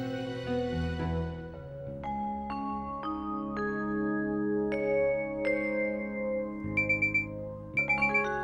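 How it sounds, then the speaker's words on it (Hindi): A melodic alarm clock or ringtone-style alarm plays a stepped sequence of clear electronic tones, a bright pulsing pattern near the end, rings steadily and fairly loud in a domestic Hindi TV drama scene, with no talking over it. "ये अलार्म किसने लगा दिया?"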